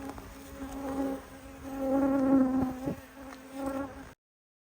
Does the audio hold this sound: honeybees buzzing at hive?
yes